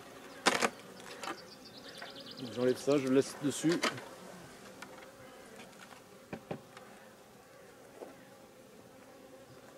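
Honey bees from populous colonies buzz around an opened hive during a summer honey harvest, with quiet, scattered buzzing and a few louder bursts and knocks early on while someone speaks briefly.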